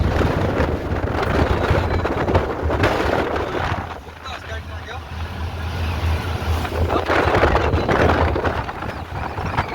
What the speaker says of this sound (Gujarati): વાવાઝોડા વાળો પવન આવે છે, વાવાઝોડા વાળો.